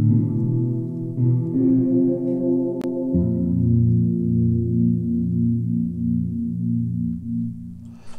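A bass part with a pitch-shifted harmony note blended in at 31 percent, playing steady sustained low notes that shift pitch partway through, close and alone with no talk.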